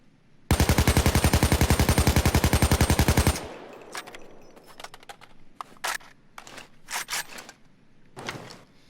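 A burst of rapid automatic fire from an AK-74 assault rifle in Payday 2, a steady, loud stream of about thirty evenly spaced shots lasting three seconds, followed by scattered clinks, shell and handling clatter.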